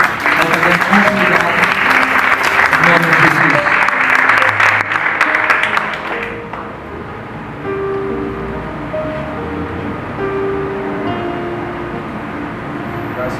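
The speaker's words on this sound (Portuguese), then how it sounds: "Você pode aplaudir pela vida dele" A congregation at a Bible study applauds the evangelist Miquel, loud thick clapping for about six seconds that then stops abruptly, leaving only quieter room noise behind.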